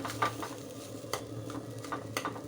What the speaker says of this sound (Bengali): মুগ ডালটা কষে কষে আমি ঝুরঝুরে করে নিয়েছি